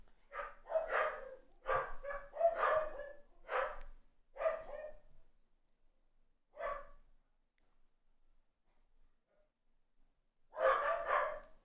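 A dog barks from downstairs in a home, several bursts of quick barks and yips heard faintly at a distance, with quiet gaps between them.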